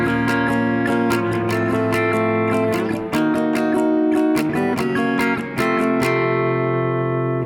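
Clean electric guitar plays the bridge of a song, brisk picked chords and single notes in a steady rhythm, loud and close, alone without speech.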